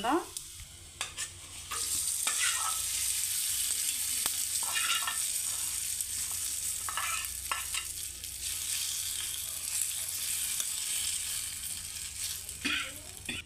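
Garlic cloves, mustard seeds, cumin, dried red chillies and curry leaves frying in a tempering give off a soft, continuous sizzle, punctuated by occasional clinks and scrapes of a spoon stirring in the pan.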